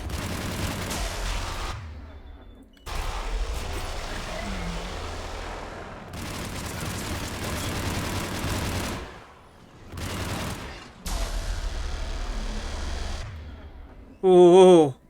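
Enemy gunfire in Mass Effect Legendary Edition comes as loud sustained bursts of rapid shots and booming blasts, broken by short gaps, with a voice talking over parts of it.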